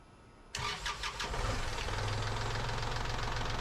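A Kubota L3302 tractor, recovered from a flood auction, cranks and fires abruptly, then settles into a steady, loud, knocking diesel idle that runs on without pause, close by.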